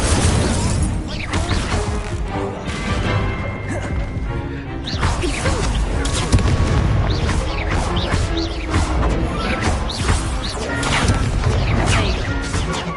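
Incendio fire spells cast repeatedly in Hogwarts Legacy, a dense stream of crackling bursts, whooshes and impacts layered over game music and effects, loud and continuous with little pause.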